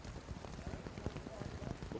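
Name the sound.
heavy rain falling outside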